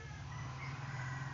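Backyard chickens on a rural Philippine farm cluck and crow faintly in the distance, a steady low farmyard murmur with no talk.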